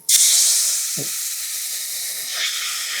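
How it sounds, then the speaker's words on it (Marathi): Hot water splashes onto frying masala at the bottom of a steel pressure cooker, an abrupt loud sizzle that bursts up and then settles into a steady hissing fry with a soft stir partway through. "हा कुकर स्टीलचा आहे त्यातला मसाला करपू नये म्हणून अगदी थोडंसं बुडाशी गरम पाणी घालते"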